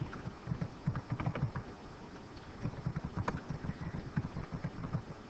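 Faint, irregular clicking of a computer keyboard as text is typed into a PowerPoint text box, with quick bursts of keystrokes and short pauses between them.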